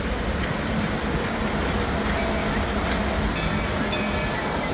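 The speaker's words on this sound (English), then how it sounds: "Oh, there's the train." A train passing at Magic Kingdom in a theme park setting, heard as a steady, continuous rumble of rolling wheels and carriages with a faint clatter, fairly loud and unbroken throughout.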